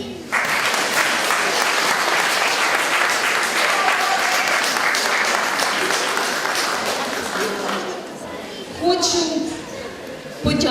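An audience at a Ukrainian school's second-anniversary celebration in Caserta, Italy, bursts into dense, sustained applause that holds steady for about eight seconds, then thins out and fades as a few voices and children's chatter emerge.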